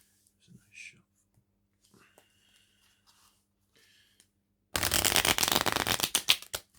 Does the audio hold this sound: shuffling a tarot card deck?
yes